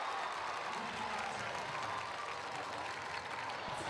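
Parents pack a high school gym for an Illinois IHSA Class 3A/4A girls basketball game, and the crowd gives a steady wash of applause and cheering throughout at a moderate distance.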